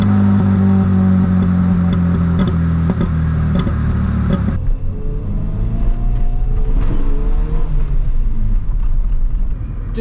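A Ford Fiesta Mk2 engine revs loudly and close, its rumble dropping as the revs fall, with sharp popping cracks scattered over the note.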